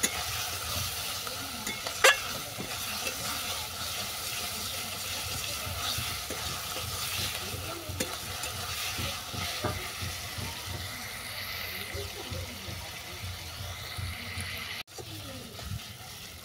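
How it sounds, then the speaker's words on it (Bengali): Crab and bitter gourd masala sautéing in oil in a pan, with a steady close sizzle and repeated scraping stirs throughout, a sharp clack near the start. "এরপর ভালো করে কষিয়ে নেব যেন মশলা থেকে তেল ছেড়ে যায়।"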